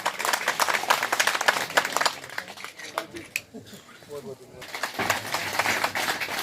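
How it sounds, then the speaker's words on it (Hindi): Applause ripples through an audience at a farmers' protest meeting against cement factories, clapping rising in bursts with a pause midway, mixed with people talking. "जोरदार तालियां इस जोड़ी के लिए।"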